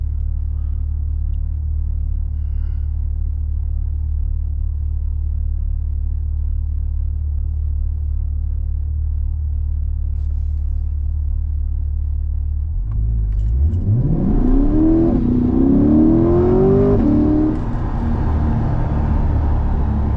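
A C8 Corvette rumbles at a low idle, then its engine surges into a loud, rising roar as it accelerates hard, the pitch climbing through a gear before the sound settles into a steady drone.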